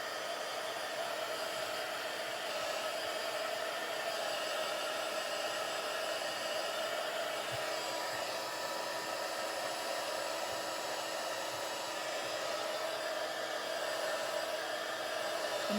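A heat tool or hair dryer blowing over homemade vellum paper, a loud continuous airy whoosh with a steady motor whine, close and unchanging throughout with no voices.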